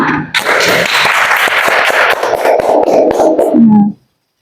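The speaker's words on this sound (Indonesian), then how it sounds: "Tepuk tangan buat kalian semua." A class of students claps together, a loud, fairly dense burst of applause with individual sharp claps standing out, ending abruptly after about four seconds.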